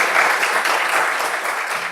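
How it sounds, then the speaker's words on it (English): Conference attendees applaud a presenter at the close of a session, a continuous, even wash of clapping from a crowd, moderately loud and unbroken. "And another applause for Bruce and thank you so much."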